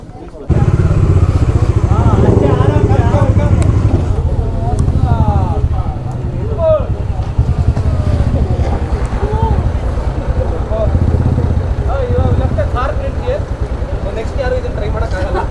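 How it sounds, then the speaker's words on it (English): A Mahindra Thar and motorbikes off-roading on a hill trail near BR Hills, engines droning loudly and steadily throughout under heavy wind buffeting on the microphone. "crazy off-roading is going on here. Thar and bikes."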